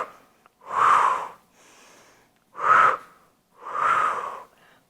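Three strong, breathy exhalations during a Pilates core exercise, each about a second long with pauses between, close and clear, with a fainter breath in one gap.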